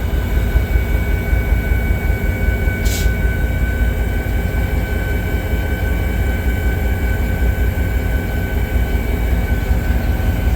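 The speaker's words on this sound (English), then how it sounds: "if I cut this back in, the brake pipe comes back up. And our brake cylinders also release" Diesel locomotive 26-L air brake system, with a loud, continuous rushing air hiss as the brake pipe recharges and the brake cylinders release, plus a brief higher burst early on.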